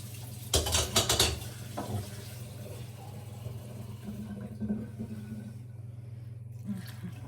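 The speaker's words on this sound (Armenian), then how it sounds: "Փոքրինչ էլ ջուր եմ անում։" Water poured into a cooking pot of frying food at home, a short close splash and clatter burst near the start, then a softer bubbling sizzle continuing under a faint steady hum.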